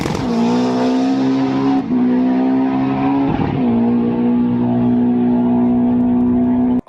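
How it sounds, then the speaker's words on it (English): A 1400-horsepower Subaru STI race car engine holds a loud, steady high rev with a strong buzzing tone, dipping briefly twice between sustained pulls, close and alone without any voices. "Here's an example of Bader-Built Racing's 1400 horsepower STI."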